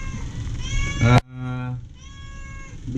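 A hungry stray cat meows loudly and close by, with a long drawn-out cry followed by a softer meow.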